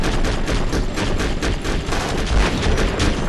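Dense, rapid bursts of gunfire in the video game Conflict Desert Storm 2, loud and continuous with overlapping shots and no pause.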